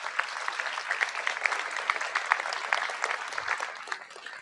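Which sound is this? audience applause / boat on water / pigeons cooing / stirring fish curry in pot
audience applause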